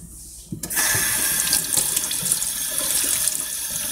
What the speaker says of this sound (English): get you a good camera angle on this exciting brush rinsing action